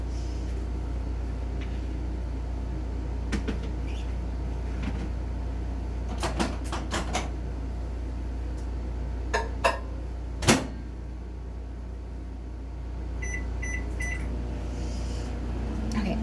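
A microwave oven runs with a steady low mechanical hum throughout, with a few brief clicks and clatters partway through and a faint beeping near the end.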